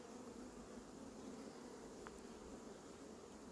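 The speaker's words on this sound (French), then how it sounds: "on voit que les abeilles sont restées dans la ruche" A soft, continuous buzzing hum of honeybees inside a hive after a swarm was housed, low and steady, fairly faint with no voices.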